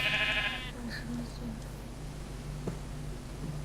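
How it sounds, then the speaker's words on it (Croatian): A sheep gives one loud, close bleat at the very start, then a low steady farmyard background with faint murmurs carries on. "A me muče ove ovce glupe."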